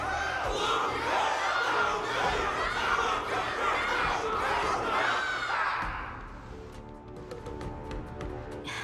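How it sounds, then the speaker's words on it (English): A large crowd roars and cheers in a battle arena during a Honkai: Star Rail event, loud and continuous, then fading into softer, scattered voices and background music. "Can't you hear? Everyone's cheering for you, Luca!"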